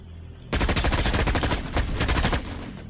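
A null cannon in the sci-fi shooter Dust 514 opens up after a short quiet lead-in, becoming a loud, sustained stream of rapid, pounding shots that runs to the end without pause.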